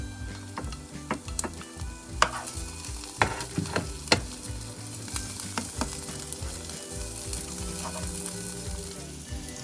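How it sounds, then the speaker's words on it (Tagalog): Garlic sautés in a pan until light brown while preparing shrimp with upo (bottle gourd), a steady close sizzle broken by repeated scraping and stirring strokes of a utensil against the pan, with no talking. "Have to saute into light brown. Have to put garlic."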